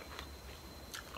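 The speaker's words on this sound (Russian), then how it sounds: "Хрустящий перчик." A homemade pickled pepper is bitten with two quick, crisp crunches, soft and close in an otherwise quiet room.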